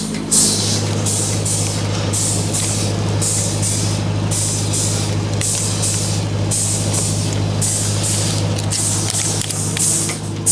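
A generator running in a forest, a loud, steady engine drone with a constant low hum throughout, overlaid with rhythmic hissing pulses; no voices.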